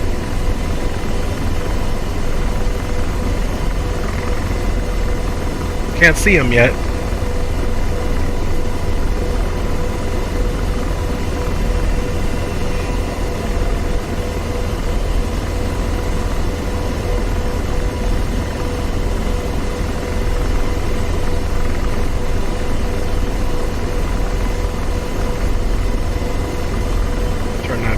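Enemy helicopter in the flight simulator DCS World, a continuous droning rotor and engine noise heard from inside a hovering aircraft, steady throughout, with a brief spoken remark over it.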